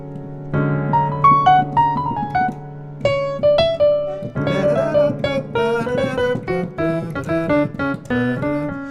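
Piano chords played alone, gospel-style rootless voicings of a flat seven chord struck and held with melodic notes moving on top, moderately loud and close.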